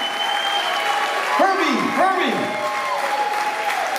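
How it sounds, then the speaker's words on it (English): Concert audience applauding a singer from a rock band at a Washington DC show, a steady wash of clapping throughout with a voice speaking over it. "a big round of applause"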